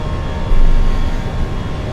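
A British Airways A320-200 with IAE engines flies low over Rotterdam in MSFS 2024, giving a steady, close engine roar that swells briefly early on and then holds level, with no talk.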